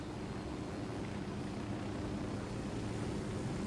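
Helicopter in the Ghost Recon Wildlands video game, a steady low droning rotor and engine rumble that holds at an even level throughout, with no talk over it.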